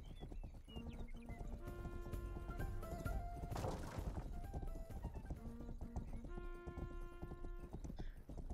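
Horse hooves clip-clop at a gallop in the Western game Rustler, a quick, repeated beat under tonal background music, with a brief crashing burst in the middle and a faint whinny.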